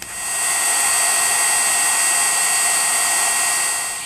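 A heat tool blows steadily while heating embossing powder for card making, a continuous loud fan whoosh with a high whine that holds for the whole stretch, with no talking.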